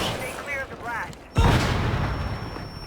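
A breaching charge detonates in Rainbow Six Siege: after a stretch of voices, one sudden loud, close blast erupts and leaves a long rumbling, crackling tail of debris.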